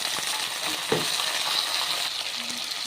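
Green beans dropped into hot oil with softened, lightly fried tomatoes and tempered black cumin seeds, sizzling in a steady close hiss with a few soft stirring clinks.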